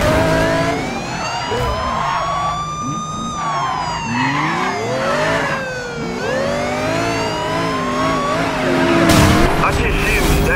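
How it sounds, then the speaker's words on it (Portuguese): In Need for Speed Rivals, a police chase ends in a crash, with engines revving, tyres skidding and sirens wailing loudly and continuously, close and intense. "Todas as unidades, suspeito código 3 se acidentou."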